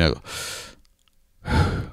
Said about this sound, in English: actual breathing before you speak